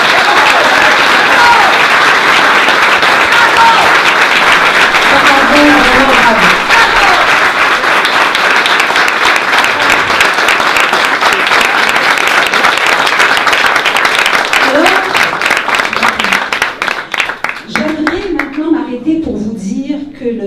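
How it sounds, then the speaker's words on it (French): Sustained, dense audience applause fills a press conference about the Frigo Free Go community fridge in a town centre, then fades as a voice begins speaking near the end. "J'aimerais d'abord qu'on les applaudisse,"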